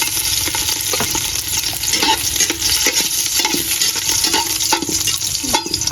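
Garlic sizzles steadily in a hot pan while being stirred, a dense continuous frying hiss broken by frequent scraping and clinking of the utensil against the pan.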